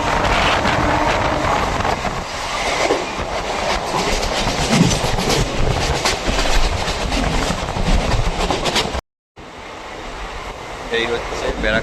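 A Sealdah–Barrackpore galloping local train runs along with a continuous loud rumble and clickety-clack of wheels on rails, a voice briefly heard, then a short dropout before the rolling noise resumes.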